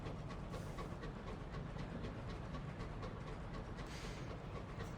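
A locomotive train rolls along in the game Sunless Skies, a low continuous rumble with rhythmic clickety-clack beats and occasional hissing surges of steam, steady and fairly close with no voices.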